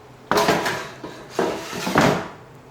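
Rice-cake pieces for tteokguk tossed into a preheated air fryer basket, giving four loud clattering knocks against the metal basket at irregular intervals, close up and with no talk.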